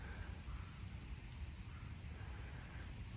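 Rain falls outdoors over a field in Wiltshire during metal detecting, a soft, steady, even hiss of drops with no breaks, faint and close around the listener.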